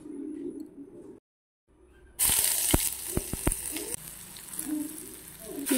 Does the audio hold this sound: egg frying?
yes